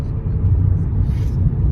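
Car engine rumbling close by as a vehicle pulls up near Trimbakeshwar, a steady low drone with soft road noise and brief faint voices.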